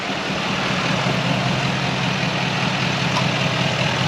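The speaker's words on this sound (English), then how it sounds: "start the engine and then rev it up." A Chevrolet Silverado with a Duramax 6.6 L L5P diesel runs close by, a steady, loud, rumbling idle that holds fairly even throughout without a clear rev.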